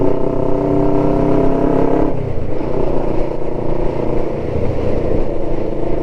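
A Kawasaki ER5 motorcycle with an aftermarket exhaust runs close by, a steady loud engine drone whose pitch and texture shift about two seconds in and then hold through the rest.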